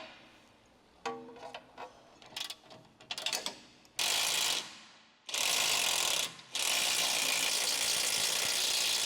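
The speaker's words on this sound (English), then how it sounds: "Use an 18mm socket with 18mm end wrench to loosen and remove the lower control arm hardware" A socket wrench ratchets on the 18mm lower control arm bolts of a 2009-2012 Volkswagen Golf R: short clicking bursts at first, then long continuous ratcheting runs broken by brief pauses, close and loud.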